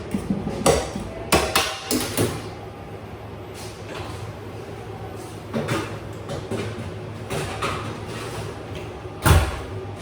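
A tray of vegetables slid into a restaurant kitchen oven, with metallic clanks, scrapes and a sliding rattle clustered near the start and a sharp bang of the tray or door toward the end.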